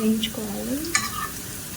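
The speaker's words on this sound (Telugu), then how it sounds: "ఇందులోనే కొద్దిగా కసూరి మెతి వేసుకోండి. ఇలా బ్రౌన్ కలర్ వచ్చేలాగా" Kasuri methi (dried fenugreek leaves) frying until brown ahead of thotakura pappu, a close sizzle with a quick stir and tonal scrape, no talk.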